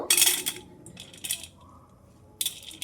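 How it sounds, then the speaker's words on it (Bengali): Soaked sago pearls poured into a bowl, giving a few close, brief clattering, rattling bursts with quiet gaps between them, and no voices. "বাটির মধ্যে সাবুটা ঢেলে নেব"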